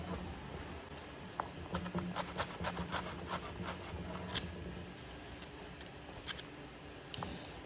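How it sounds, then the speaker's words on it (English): A rag rubs over a painted crown molding, wiping away leftover filler in quiet, quick scrubbing strokes that come in short bursts, faint and close-up, with no talk. "come back with the rag here. Make sure you wipe off all the extra residue that got on the front."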